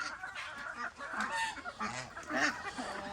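Half-grown farm ducks, hatched from incubated eggs, quack in several short, nasal, honking bursts at a moderate distance, with no one speaking.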